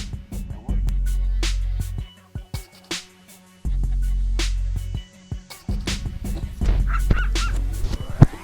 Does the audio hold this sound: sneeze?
no